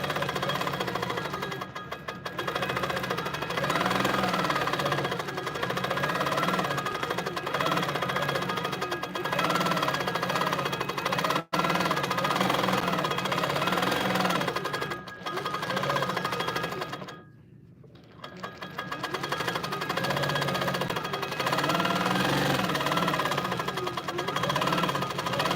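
HandiQuilter longarm quilting machine stitching a meander pattern across a large quilt: a fast, steady mechanical buzz of needle strokes that runs nearly continuously, pausing briefly twice, with no talk.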